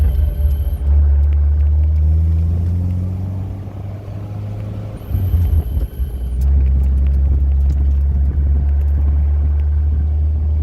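A 1974 Alfa Romeo engine at low RPM while driving gives a loud, throaty, continuous rumble that dips briefly mid-drive as revs shift, then returns to a deep steady drone, heard close from inside the car.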